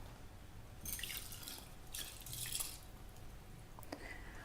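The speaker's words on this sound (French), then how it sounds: "nous allons rincer le riz dans un grand volume d'eau claire" Rice being rinsed in a large bowl of clear water, soft splashing and trickling in two or three bursts with a few drips, close and fairly quiet, no talking.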